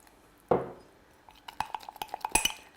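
A spoon stirs sourdough starter in a container, beginning with one sharp knock, then a quick series of light clinks and taps against the sides.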